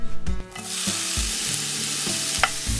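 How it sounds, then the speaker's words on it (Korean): Julienned carrot strips stir-frying in a pan, a loud steady sizzle close by, punctuated by several rhythmic knocks and scrapes of a utensil tossing the carrots. "이 당근채도 볶아주세요."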